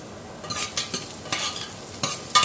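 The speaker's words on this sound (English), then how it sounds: "I'm just adding the curry leaves right now." Curry leaves crackle in hot oil for okra pulusu, a loud, close sizzle with several sharp spitting bursts and stirring scrapes, no voices.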